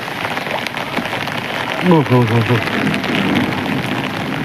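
A heavy hailstorm in Ludhiana beats down as a dense, steady loud patter of hailstones and rain, with a brief voice in the middle.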